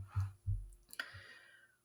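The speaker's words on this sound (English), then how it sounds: "Okay, so that gives me 4 dice that I can roll." Four dice for a Farkle game roll close and quiet, giving a couple of low thuds followed by a sharp clatter and a short ringing rattle that fades out.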